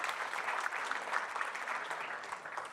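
An audience at a trade and investment forum in Brussels applauds the panel, a dense, even burst of clapping that fades slightly toward the end.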